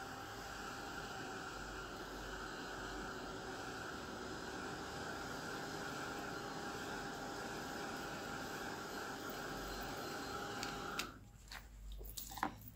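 Stamped Distress Oxide ink on a paper star is dried with a steady, whirring rush of blown air and a faint whine. It cuts off near the end, followed by a few small handling taps.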